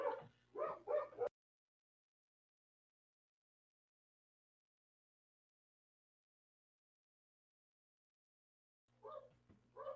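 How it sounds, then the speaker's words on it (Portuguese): An agitated dog barking in short bursts of three or four yips, then a long silence before more barks return at the end, fairly faint and somewhat distant. "O cachorro está agitado aqui."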